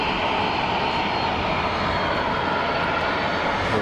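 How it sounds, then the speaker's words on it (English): Delta Boeing 767 jet engines throttling up on the taxiway at Geneva Airport, a steady, loud broadband roar that holds constant throughout with no talk. "Bit of throttle from the Delta 767, so it's going to be on the move."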